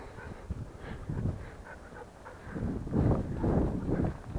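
Dogs pant while walking down a sandy hill, quick breathy puffs close by over soft crunching footsteps, growing louder toward the end.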